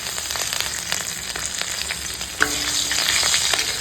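Green chillies and black cumin seeds hitting hot oil after fried onions, a bright crackling sizzle with scattered pops and a short scrape of stirring, close and steady with no voices.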